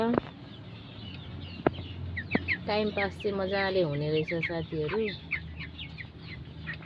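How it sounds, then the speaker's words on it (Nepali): Broiler chickens on a Nepali farm cluck in a cluster of close, repeated calls while someone talks over them. "मैले पहिलो अनुभव ब्रोइलर कुखुरा पालेर गरिरहेको छु साथीहरू"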